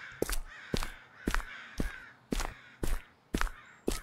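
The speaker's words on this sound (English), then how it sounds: "The crows is pretty loud." Crows caw loudly and repeatedly in a horror video game, about one harsh call every half second, in a steady rhythm with nothing else in the background.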